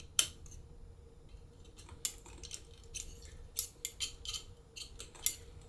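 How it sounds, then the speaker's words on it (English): Several sharp metallic clicks and snaps ring out at irregular intervals against a quiet background hum as a circlip clicks into place in a Showa motorcycle fork. "You must hear a clicking sound where circlip stands to its place."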